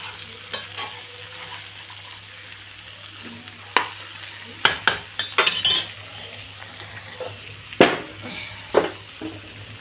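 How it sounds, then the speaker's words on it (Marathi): A vegetable dish of eggplant and broad bean pods frying in a pan is stirred with a metal utensil, giving a soft steady sizzle broken by sharp scraping clatters and clinks, close and without talk. "वांगे, भाजी आपण मस्त हलवून घेऊ."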